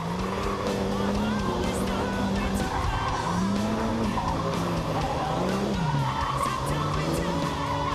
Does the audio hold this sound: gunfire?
no